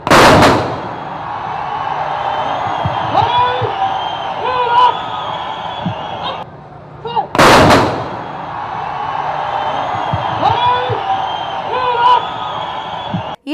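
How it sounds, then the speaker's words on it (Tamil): Police fire rifle volleys as a gun salute at a state funeral, with two sharp, loud cracks heard several seconds apart, each ringing out over a crowd murmur and a steady voice talking throughout. "24 காவலர்கள் 3 சுற்றுகளாக 72 துப்பாக்கி குண்டுகளை முழங்க விஜயகாந்த் உடலுக்கு முழு அரசு மரியாதை வழங்கப்பட்டது."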